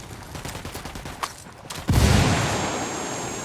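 Gunfire and a grenade blast in the Ghost Recon Wildlands video game: a patter of distant shots, then a sudden heavy boom that decays slowly into a rumbling tail.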